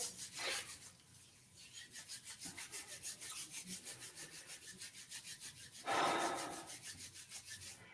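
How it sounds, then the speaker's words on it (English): Hands rubbing briskly together in a steady back-and-forth rhythm, close and fairly quiet, with a brief louder burst partway through and no talking. "so rubbing our hands together."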